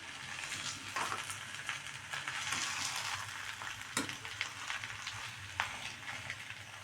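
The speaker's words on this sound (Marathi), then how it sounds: "आता बारीक चिरलेली कोथिंबरचे पानं टाकून घेऊया आणि परतून घेऊया" Vegetables with finely chopped coriander leaves fry in a pan, making a steady close sizzle broken by occasional sharp scrapes and taps of a stirring spoon. No one speaks.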